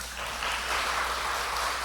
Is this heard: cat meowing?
no